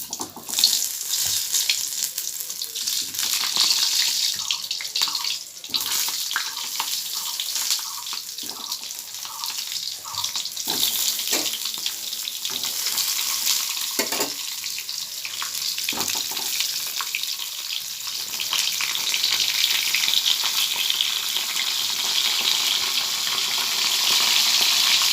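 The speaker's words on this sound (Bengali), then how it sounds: "এরপরে পটলগুলোকে একটু ভেজে নেব" Pointed gourds fry in hot oil for a prawn dorma, a dense steady crackling sizzle heard up close for a long stretch, growing somewhat louder toward the end.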